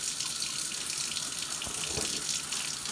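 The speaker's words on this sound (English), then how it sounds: "before you turn off that water" Tap water runs steadily from a sink faucet, a soft continuous hiss and splash with no talking.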